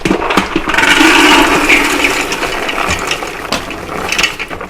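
Dry beans poured into an Instant Pot, a loud, close, continuous rattling cascade that swells early, then thins into scattered clatters toward the end.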